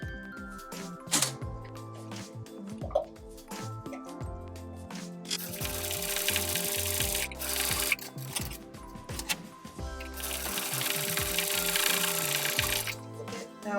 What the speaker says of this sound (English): I'm just going to sew bits together and see what I end up with.